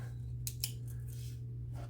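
Victorinox Nail Clip 580 scissors snipping, a few quick faint metallic clicks over a steady low hum, with no talking.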